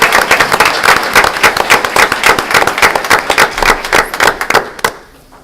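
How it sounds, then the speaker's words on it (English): At a school board meeting, an audience claps in quick rhythmic unison for elementary school staff, loud and close, ending abruptly and falling to near silence. "And one more round of applause to our elementary staff."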